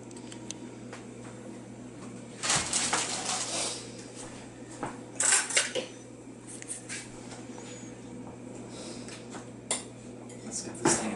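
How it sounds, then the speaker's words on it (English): A fork and dishes clatter as fresh pasta with sun-dried tomatoes and cheese is served, with clinks and scrapes in scattered bursts over a low background hum. "Let me grab a fork."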